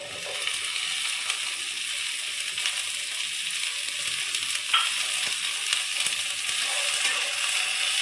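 Okra and onion fry together in a pan in steady, moderately loud sizzling that lasts throughout, with occasional scrapes and clinks of a spatula as it is stirred and no one speaking.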